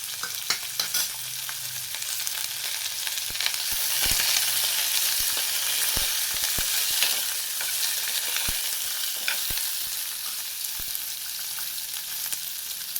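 Finely chopped snake gourd sizzling in hot oil tempering, a bright, continuous hiss punctuated by frequent crisp pops and scraping stirs, close and steady with no voices.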